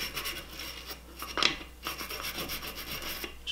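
A wooden dresser is scrubbed with cleaning solution around its knobs and crevices, giving a close, steady rasping rub in repeated strokes, with one sharper scrape midway and no talk.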